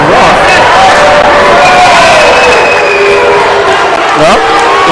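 A big volleyball crowd in the Gates Center roars continuously in protest of a call, loud and dense throughout, with whistles and shouts rising within the sustained din.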